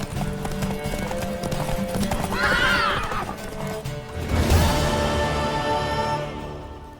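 Clopping horse hooves and a loud neigh from a mare in The Witcher 3, the whinny rising midway over steady hoofbeats and game music, with little talk.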